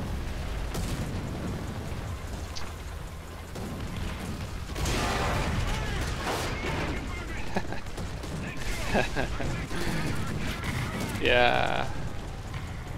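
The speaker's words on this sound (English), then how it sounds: "got hit by that artillery fire, and my tank is burning, and I'm getting blown up." Artillery fire strikes a tank in World of Tanks, with booming blasts, crackling impacts and burning noise scattered through a dense battle din while someone talks over it.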